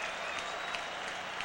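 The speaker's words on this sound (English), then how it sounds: "And he gets his ovation from the Syracuse crowd." A stadium crowd at a 1998 Syracuse football game against Miami gives senior Mark Pilon an ovation, a steady wash of cheering and applause with no gaps.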